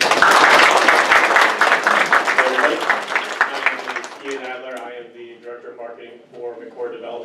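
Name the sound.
audience applause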